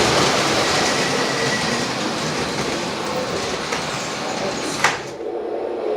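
Steady rumbling and clattering of a Lionel model train running along track after climbing a hill, close and continuous, ending with a brief click and sudden quiet as it stops.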